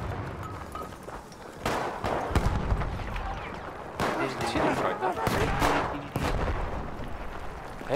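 Battlefield 1 multiplayer match with a series of sharp gunshot cracks and booms, some near and some distant, scattered over busy battlefield noise while a player talks throughout.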